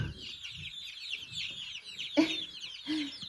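Hens in their pen give a steady run of soft, close clucks with several sharper, louder squawks near the end; no one talks.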